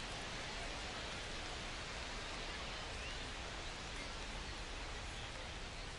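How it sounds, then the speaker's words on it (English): Steady rain falls on a ballpark in the MLB The Show 25 video game, a constant, even hiss of drops that stays fairly faint and carries no voices. "This rain is not letting up."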